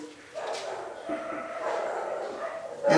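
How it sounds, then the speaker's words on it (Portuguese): Dogs barking off in the background, several yips and barks blurred together under steady indoor noise, with a louder burst near the end. "os cachorros estão ajudando bastante"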